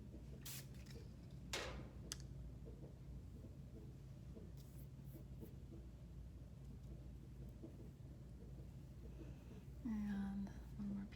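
Hair spray applied to curled hair in a few short, faint hisses early on, then a quiet stretch with low background hum and a brief tonal sound near the end.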